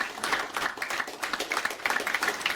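An audience claps for a girls' basketball team that won a national silver medal, giving a quick, dense burst of many hands at a ceremony, fairly loud and close, with no one talking over it.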